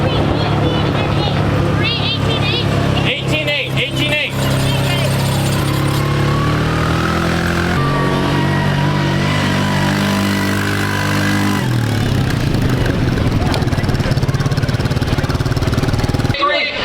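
Dirt Cup race car engines rumble and idle loudly as cars get ready to push up to staging for a 40-lap twin race, a dense, steady mechanical drone with shifting pitch and brief revving swells, voices mixed in.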